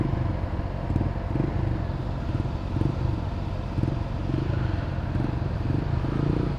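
A Honda CBR 600F motorcycle engine idles with a steady low putter and faint clattering, close by and fairly constant throughout.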